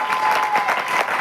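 Audience clapping in a hall, a dense steady patter of many hands held at an even level throughout the short stretch.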